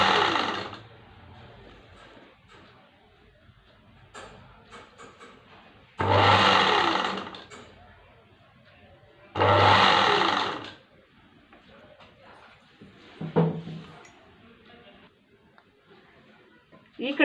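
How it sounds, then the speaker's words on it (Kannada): A sewing machine stitches the hem of a blouse in several loud bursts, starting, running briefly and stopping again, with quiet handling noise between runs. "ಈ ರೀತಿಯಾಗಿ ನಿಧಾನವಾಗಿ ಸ್ಟಿಚ್ ಮಾಡ್ಕೊಂಡು ಬನ್ನಿ."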